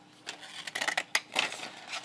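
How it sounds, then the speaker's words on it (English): Scissors snipping through paper being cut into pieces for a collage, a series of short crisp cuts in irregular bursts, fairly quiet and close with no talking. "I'm gonna cut some of these up here."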